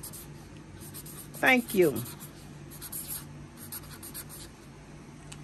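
Handwriting on paper to make sticker tags, two quick scratchy pen strokes close up, then quieter scribbling, with a voice speaking briefly.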